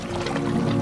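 Steady heavy rain pours in a Hindi animated cartoon, a dense, continuous wash of water sound with a faint musical tone underneath.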